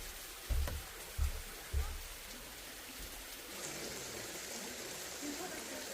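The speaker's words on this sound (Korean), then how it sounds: "이 계곡 앞에 정작 풍경도 좋지만은 이 물소리가 마음을 차분하게 해주는 게 너무 좋은 것 같아요" A mountain valley stream flows near a waterfall beside a Korean hanok in winter, giving a soft, steady rush of water, with a few low thumps at the start.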